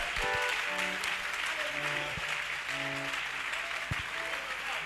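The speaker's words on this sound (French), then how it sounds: "give him a hand clap of praise" A church congregation claps hands in praise, a dense patter of applause filling the room, with sustained keyboard or organ chords and faint voices underneath.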